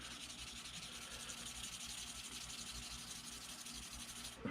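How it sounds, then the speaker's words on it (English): Wet 400 grit sandpaper rubs by hand over the original fuel cap of a 1983 Suzuki GS 1100E, a faint, steady, close scratching with a rhythmic back-and-forth texture and no talking. "So you want to take some of this 400 grit sandpaper. I'm just gonna sand it down."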